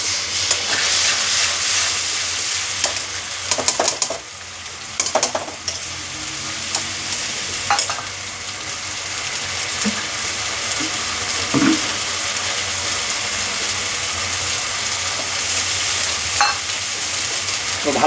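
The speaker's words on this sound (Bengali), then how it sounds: "ভালো করে এই মশলাটা যতক্ষণ না তেল ছাড়ে ততক্ষণ পর্যন্ত ভাজতে হবে" A spiced paste of ground ginger, garlic, coriander seeds, cumin, tomato and dried red chilli sizzles and spatters steadily in hot oil, stirred now and then, with faint watery sounds in the background.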